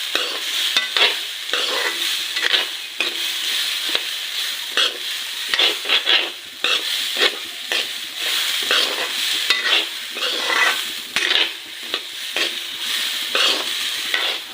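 Bora rice is dry-fried and stirred in a pan, with a soft continuous sizzle broken by repeated scraping strokes of a spatula against the metal, close and clear with no talking.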